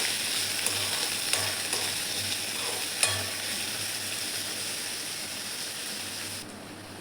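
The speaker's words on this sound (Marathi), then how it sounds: "पत्ताकोबी पण व्यवस्थित तळून घ्यायचं आहे." Shredded cabbage fries in a pan for poha, giving a steady, close hiss and sizzle with a few sharp clinks of stirring, no voices.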